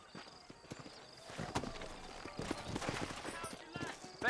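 Horses walking in the Red Dead Redemption video game, their hooves clip-clopping in an uneven rhythm that grows busier, moderately close and fairly quiet, with talk over part of it.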